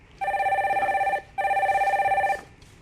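A telephone rings twice for a caller on a Korean stock market call-in broadcast, two loud, even electronic trills of about a second each with a short gap between them.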